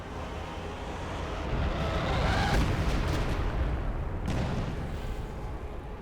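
Mortar and artillery fire in Company of Heroes 2, heavy rumbling blasts swelling into a sustained boom mid-clip over a constant low battle din, with a quieter thump near the end.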